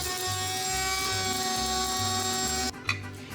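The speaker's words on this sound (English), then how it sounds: "Now place 2 cloves in the grinder and grind to a powder." A spice grinder whirs loudly and steadily as it grinds two whole cloves into powder, a continuous high-pitched motor drone that stops abruptly near the end, followed by a short clatter.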